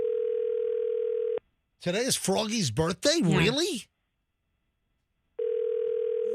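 A telephone rings on a call that goes unanswered: a long, steady ringback tone sounds, stops while people talk briefly, then sounds again just as loud.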